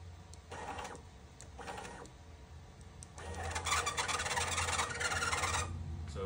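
A Bambu Lab 3D printer with a squeak runs with a steady mechanical whir and hum, brief squeaky bursts early, then a longer, louder stretch of motor and squealing noise, close and without talk.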